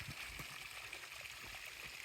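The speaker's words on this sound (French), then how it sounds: "Petite cascade de tuf." Small tufa waterfall over rock mixed with vegetation on a mountain trail, a faint, steady splashing and trickling wash of water heard from a short distance, with no voices.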